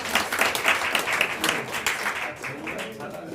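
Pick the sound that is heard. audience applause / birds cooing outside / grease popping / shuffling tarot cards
audience applause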